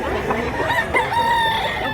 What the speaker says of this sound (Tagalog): Daghag manok. Wapo sa din.